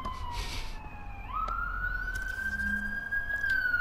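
Police car sirens in a Spider-Man video game, a rising electronic wail that climbs and holds at a steady pitch, moderately loud with faint traffic and game effects underneath.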